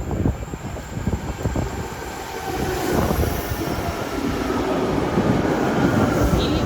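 An NJ Transit Arrow electric train pulls away from Metropark station, heard from aboard as a rising rumble and rail clatter that grows steadily louder and denser as it accelerates.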